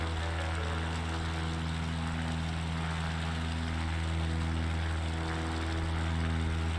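An old propeller plane droning steadily in flight on a bush flight over Puerto Rico, a loud, constant low engine hum with layered harmonic tones and no voices.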